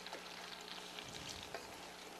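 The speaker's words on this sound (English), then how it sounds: "It's sizzling." Butter and brown sugar sizzle in a pan, a faint, steady frying hiss with a few soft crackles, heard alone with no talking.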